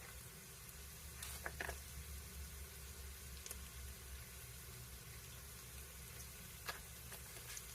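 Potato soup base with bacon and onion simmers in a pot, giving a faint, steady low sizzle with a few soft clicks and stirs, no talk over it.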